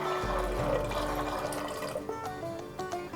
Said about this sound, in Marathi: आता या वाटाण्यांमध्ये वाटाणे बुडतील इतपत पाणी घालायचं आहे